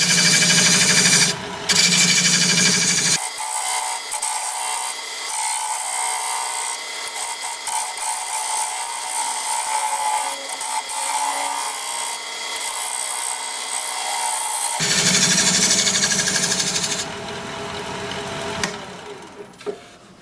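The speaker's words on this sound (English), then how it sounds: "now I just want to open this up a little bit, and I'll do that with a 1/2 inch bowl gouge at about 800 RPM" Wood turning on a lathe at about 800 RPM, a 1/2 inch bowl gouge opening up the inside of a log vase, giving a loud continuous scraping, rasping cut that runs steadily with brief pauses at the start and end.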